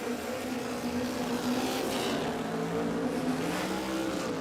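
Engines roar steadily as a Toyota Corona and a Toyota Hilux line up for a radial heads-up drag race at Warwick Dragway, Australia, a continuous loud drone heard from some distance.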